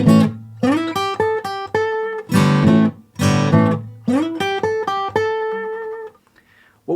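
Guitar playing a delta blues phrase over A using the E blues scale. Single plucked notes and bends alternate with two brief strummed chords, played close and clear with no talk, and the last note fades out.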